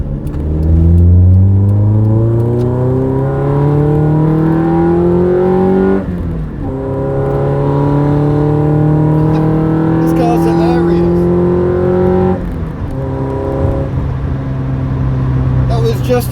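A Toyota AE86 on the Silverstone track revs hard through several gears, its engine note climbing loud and close, then dropping at each of two shifts before rising again.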